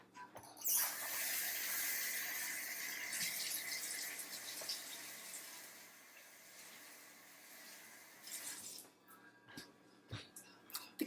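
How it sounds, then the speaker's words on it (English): Hands being washed under a running kitchen tap while cooking: a steady, close rush of water that runs for several seconds, then stops, leaving scattered small clatters and handling noises. "Let me wash my hands real quick."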